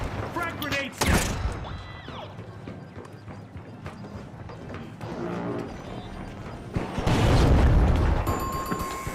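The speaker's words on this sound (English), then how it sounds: "Frag grenade set!" Frag grenade blasts in the shooter game The Finals, with a sharp loud boom near the start and a heavier, longer rumbling explosion later, amid clattering game effects and debris in between.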